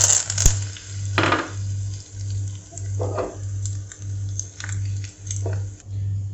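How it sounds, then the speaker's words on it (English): Mustard seeds sputter and pop in hot oil while tempering for Kerala pumpkin pachadi, giving scattered crackles and sharp pops over a steady low hum, with no voices. "Once the mustard seeds starts sputtering, I'll be adding the dry red chili and curry leaves."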